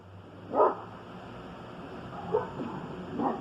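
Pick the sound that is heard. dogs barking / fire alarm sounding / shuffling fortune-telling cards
dogs barking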